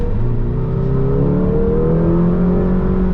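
A McLaren GT pulls hard from 45 mph in fourth gear, its engine note droning loud and steady and slowly climbing in pitch as the car gathers speed, heard up close from inside.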